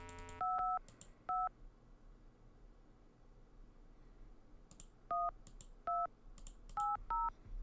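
Bursts of DTMF touch-tone beeps from a phone being dialed in the Gabriel Knight adventure game: a few quick tones early, then a faster run of five near the end, each crisp over a low steady hiss.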